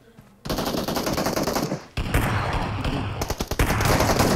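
Shotgun gunfire in the mobile battle-royale game PUBG Mobile, a dense run of loud blasts starting after a brief quiet moment, then a short break and more sustained firing, with rapid close shots and no voices.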